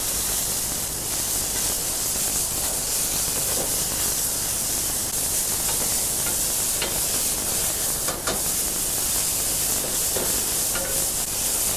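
Wild boar meat browns loudly in a hot pan for Conchiglie with wild boar ragu, a dense, steady sizzle that runs throughout with occasional pops and clicks.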